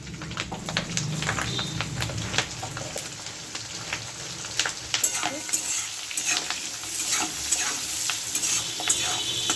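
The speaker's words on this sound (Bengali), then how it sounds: "এবার আমি পেঁয়াজগুলো ভেজে নেবো" Onion pieces fry in a pan with a continuous soft sizzle, punctuated by scattered clicks and scrapes of stirring, heard close and moderately quiet without any talking.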